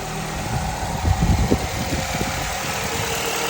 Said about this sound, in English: So as you can see, we got our engine running now.